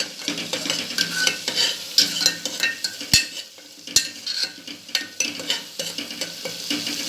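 Spices stirred into a frying pan for a kabuli chana curry: repeated scraping strokes and a couple of sharp metallic knocks over a soft sizzle, no talk.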